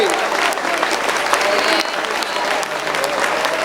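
A church congregation at a Sunday meeting claps hands in praise, making dense, sustained, loud applause from many people, with a voice faintly mixed in.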